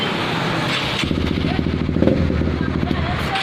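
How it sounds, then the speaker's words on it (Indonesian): A Honda CBR150 fitted with an alarm starts up and runs, a close, rapid, choppy engine putter that grows stronger after a second and keeps pulsing under faint background noise. "maka netral kembali dan motor bisa dihidupkan secara normal"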